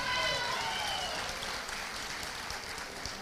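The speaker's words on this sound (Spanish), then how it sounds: "Un fuerte aplauso para él." Theater audience applauding after a prize announcement at a serenade show, a broad steady wash of clapping that starts loud and slowly eases over a few seconds, with some voices mixed in.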